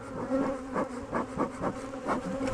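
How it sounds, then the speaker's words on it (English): Honeybees swarm loudly around a large, opened double-brood hive, their buzzing rising and falling in close, agitated swells. "Bees are like telling me off"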